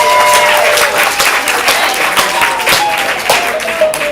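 A crowd claps loudly and steadily, a dense wash of applause sustained throughout with a few faint tonal sounds beneath.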